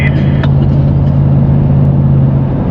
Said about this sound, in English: we just had a road train go past us